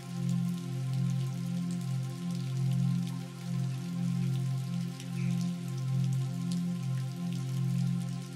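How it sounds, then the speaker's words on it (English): Steady rainfall fills the scene with a continuous patter of drops, even and close, running alone with no voices. "And listen to the rainfall."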